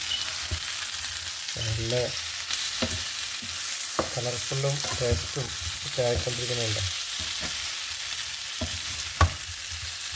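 Liver frying in a pan with ground black pepper, stirred steadily, giving a continuous close sizzle with scraping stirs while a person talks over it.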